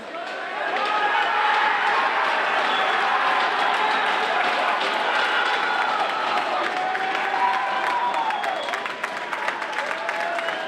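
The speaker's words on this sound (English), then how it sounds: "student body from Boston Latin applauding their backup goalie, Alex Carter, who just came into the game" Boston Latin's student section fills a high school hockey rink in a 2019 MIAA Division 2 North playoff game with sustained applause and cheering that runs steadily for about ten seconds, with some crowd voices mixed in.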